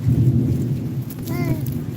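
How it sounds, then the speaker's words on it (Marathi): Rain falls steadily with a low rumble underneath, and a voice briefly cuts through the downpour. "पाऊस पडतोय त्यांना सांग ना पाऊस पडतोय म्हणा"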